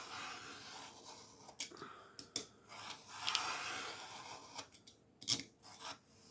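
Scissors cutting through paper: quiet rasping snips and crinkly rustles in irregular bursts, close and soft, with no talking.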